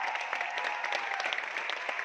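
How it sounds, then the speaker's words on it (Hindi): Audience applause at a testimonial gathering, a brief steady patter of many hands clapping heard from some distance, fairly soft. "एक बार जबरदस्त तालियां सभी को साथी को जबरदस्त तालियां।"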